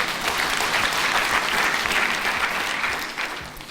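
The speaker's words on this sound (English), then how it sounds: "Please, a round of applause for that." An audience at a ministerial speech on a water and sanitation master plan breaks into steady applause, many hands clapping in a dense wash that holds for a few seconds, then gradually fades toward the end.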